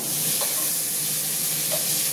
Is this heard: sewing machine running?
no